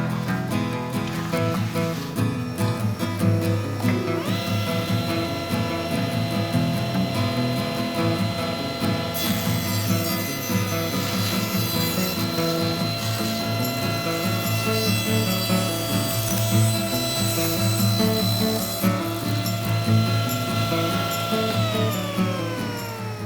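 A power saw rips steadily through rough lumber riding on a carrier board, a loud continuous whine with sustained tonal drone and grinding cut noise, shifting slightly in pitch as the blade works along the board.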